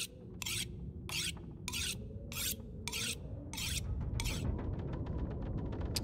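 A knife is sharpened on a whetstone in the survival game The Long Dark, with eight rhythmic rasping strokes and then a quick ratcheting flurry over a low wind rumble.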